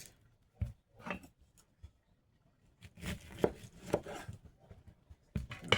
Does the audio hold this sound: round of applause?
no